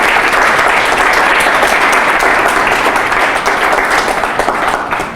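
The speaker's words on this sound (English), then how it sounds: "let's all just give her another round of applause for that" A crowd applauds steadily and loudly for several seconds, a dense wash of clapping that only begins to taper at the end.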